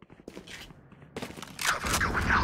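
Gunfire in the Valorant video game, a dense burst of rapid shots that grows louder and fills the second half, mixed with game effects and footsteps.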